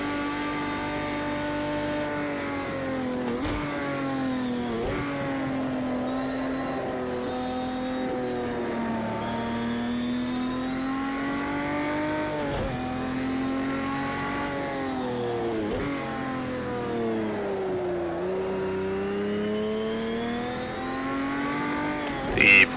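A vintage Porsche 917 LH race car engine howls loudly and continuously in Project Cars 2, climbing in pitch and dropping sharply at each gear change, several shifts in a row.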